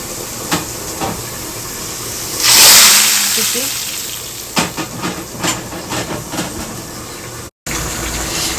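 Dal (lentils) boiling in a pot on a home kitchen stove, a steady bubbling hiss with a brief louder burst of steam, followed by scattered clinks and stirring sounds.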